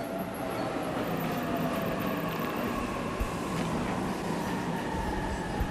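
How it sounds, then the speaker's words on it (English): Train rumbling steadily at a station in the video game 13 Sentinels: Aegis Rim, a continuous rail roar with faint wheel clatter and a couple of soft thumps, with no voices over it. "Train's already here."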